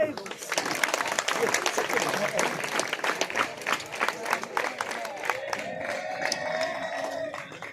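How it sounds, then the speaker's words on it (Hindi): Clapping from an audience at a district-level Sanskrit student sports competition in Swargashram, Rishikesh, dense and steady throughout with crowd noise and a voice talking over it. "इसलिए ताली बजाओ भाई।"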